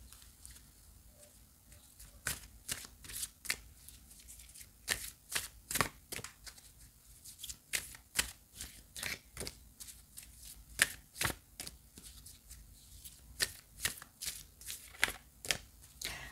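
Atlantis oracle cards are shuffled by hand in a quiet room, giving soft, crisp riffling flicks in irregular clusters, close to the ear.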